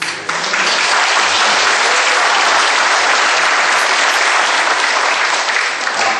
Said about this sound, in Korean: 박수 받으려고 할 얘기도 아니고 박수를 유도한 일도 아닌데